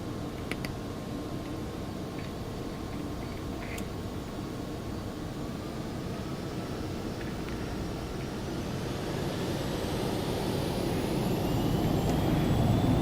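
Jet engines of a Phenom 300 business jet in X-Plane 12 roar steadily at takeoff power, a broad, loud rushing drone with a thin whine that rises as the aircraft accelerates.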